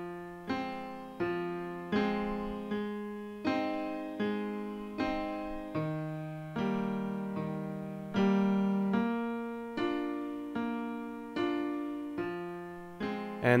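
Solo piano plays the left-hand part of the verse of a song, slow, evenly spaced low notes and chords in a steady rhythm, each struck note decaying before the next, close and clear.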